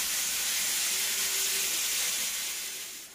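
Gas stove flame hissing under a pot of bathua greens set to boil in a home kitchen, a steady close broadband hiss that fades slightly at the end.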